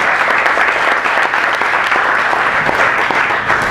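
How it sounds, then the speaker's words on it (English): An audience applauds a panel of invited guests at an industry mentorship and business talk, steady dense clapping filling the room without pause for the whole stretch. "Have a round of applause for them"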